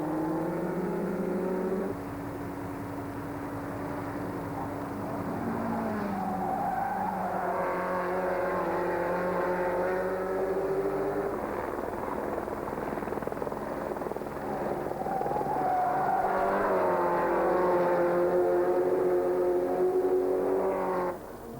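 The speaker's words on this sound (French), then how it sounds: "Dernier virage, Medge est déjà au paradis devant Maisonneuve et Dupuis" Race cars roaring around the Rouen-les-Essarts circuit, a sustained loud engine drone with rising and falling pitch as cars pass and shift, nearly constant throughout with no commentary audible.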